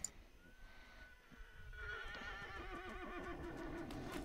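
In a video game, a horse whinnies loudly and at length, with clip-clop hoofbeats and rushing game sounds building around it.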